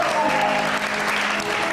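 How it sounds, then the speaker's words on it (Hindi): A studio audience on a television entertainment show breaks into steady, full applause. It is loud and continuous, with faint background tones underneath. "अभी फरियाल के लिए बहुत सारी तालियां।"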